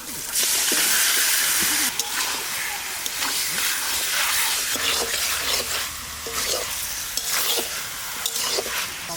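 Chicken pieces dropped into a hot, fried-down spice paste for Assamese black sesame chicken, loud steady sizzling and hissing with stirring scrapes throughout, close up.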